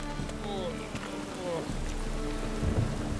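Rain pattering steadily in The Witcher 3: Wild Hunt, a soft continuous hiss of drops with a low rumble beneath, heard faintly behind background game sounds.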